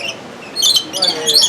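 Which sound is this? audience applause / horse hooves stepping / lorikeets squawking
lorikeets squawking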